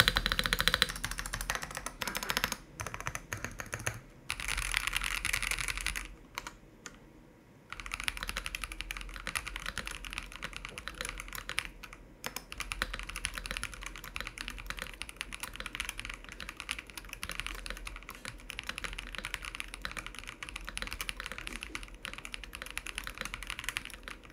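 Continuous key typing on a Vortexseries GT wireless full-size keyboard with Poron sheet and Poron foam in the plate, a dense, deep-toned clatter of keystrokes with a few brief pauses, close and steady throughout.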